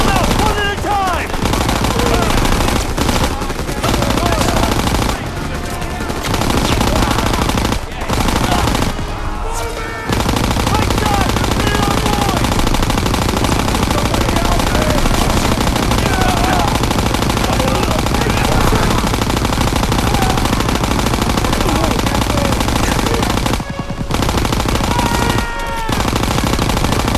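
Sustained machine-gun fire from a World War II battle in Call of Duty WWII, loud and near, with dense bursts rattling almost without pause and brief gaps, under shouted battlefield voices and a constant war din.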